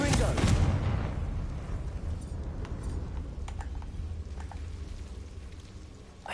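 A Confringo fire spell bursts in Hogwarts Legacy with a loud booming explosion at the start that rolls off into crackling, rain-like debris and a fading rumble.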